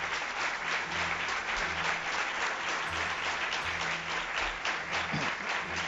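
Sustained audience applause fills the Roman Theatre of Cartagena at a night event, a dense, even wash of many hands clapping steadily throughout with no voices on top.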